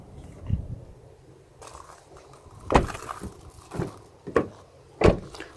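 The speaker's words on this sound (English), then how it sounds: "And all the doors will be unlocked, okay?" Power door locks on a 2018 Honda Pilot EX-L unlocking from the key fob, several distinct mechanical clunks and thuds spaced over a few seconds, fairly close, over low background hum.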